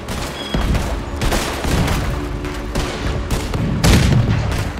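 Ship cannons fire in a naval battle in Red Dead Redemption 2, a dense, continuous barrage of booming shots and rumbling blasts with no pauses.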